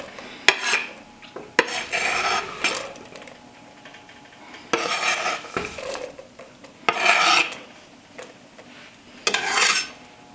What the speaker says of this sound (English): So I'm gonna go ahead and add in my onions right now.